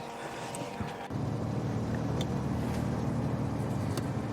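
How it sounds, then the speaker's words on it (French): A small light aircraft's engine is started cold: after a brief click and turnover the engine catches at about one second and settles into a steady, loud, continuous drone close by, with no talking. "Mise en route moteur froid."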